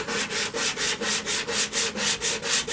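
Rough-grit sandpaper works the outside of a green poplar bowl spinning on a woodturning lathe, a loud, even rasping that pulses in about eleven regular strokes.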